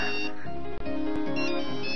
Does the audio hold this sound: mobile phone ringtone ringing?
yes